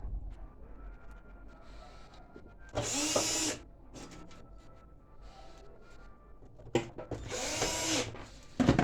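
Power screwdriver driving screws into a kitchen cooker under repair, two close bursts of whirring drill noise separated by quieter handling and background hum.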